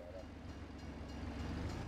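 A train in a farming simulation game rolls past with a low, steady rumble and faint rail clatter, sounding distant and quiet throughout.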